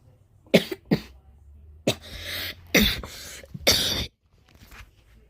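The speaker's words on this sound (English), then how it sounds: "Sorry about that coughing attack." A person suffers a coughing attack: several harsh, close coughs in irregular bursts, some paired, spread over a few seconds before quiet returns.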